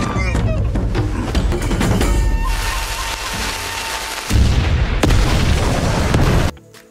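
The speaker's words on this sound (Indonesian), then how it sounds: "dengan sebuah ledakan terjadi karena bom" Loud, booming bomb explosions in a film rumble over a dense bed of crackling and debris, with a sudden heavy blast midway before the sound cuts off abruptly.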